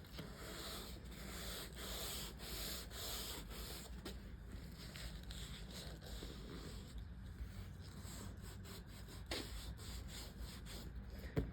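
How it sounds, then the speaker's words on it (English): Hand sanding a leather car seat during refinishing prep: a steady, soft rubbing scrape with rhythmic strokes, close and continuous, with no talk. "So we want to make sure that we get that sanded well,"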